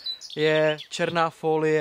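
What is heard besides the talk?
birds chirping loudly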